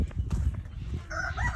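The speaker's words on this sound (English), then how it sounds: "This chicken, I think this chicken can go through." A chicken on a farm with goats vocalizes briefly near the end, a short, bright call over low rumbling handling noise close by.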